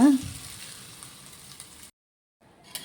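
Onion and curry leaves fry in a pan during prawn sukka cooking, giving a soft, steady sizzle that cuts out abruptly for a moment before faint sizzling returns.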